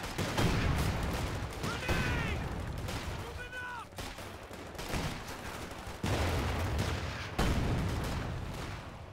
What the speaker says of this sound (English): 50 cal machine gun on the field for Leeroy Jenkins, just set up there in the big house in the center, trying to stop the infantry as much as it can